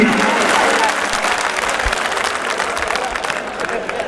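A crowd at a comedy poetry show gives loud, dense applause, many hands clapping together with faint murmurs in the mix, easing slightly but continuing throughout.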